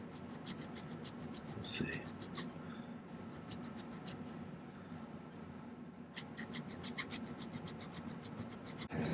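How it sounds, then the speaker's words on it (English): Silver being filed by hand while a carved cabochon is set, with fast, even rasping strokes repeating close by, a short pause in the middle, and a brief spoken aside. "A little bit of precise filing, or I'll try to make it precise."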